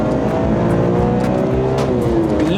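A BMW E46 M3 coupe driven hard along a twisty road, its engine droning loud and constant from inside the car, pitch rising and falling as the revs climb and ease through the bends.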